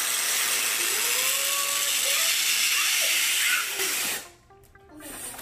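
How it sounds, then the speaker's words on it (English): Air rushes steadily into a balloon dog through its nozzle, a continuous near hiss lasting several seconds that drops off abruptly near the end, with faint whistling tones riding over it. "And then you just line up the nozzle and blow it up."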